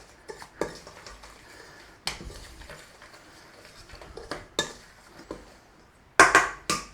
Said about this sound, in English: Give it a good mix in.